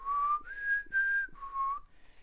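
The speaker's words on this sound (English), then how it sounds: "also like an iconic whistle for the Hunger Games" The iconic four-note whistle from the Hunger Games: Mockingjay Part 1 trailer, a clear, faint, solo whistled tune rising and falling in pitch.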